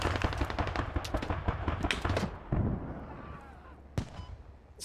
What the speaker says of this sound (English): new smoke barrage going down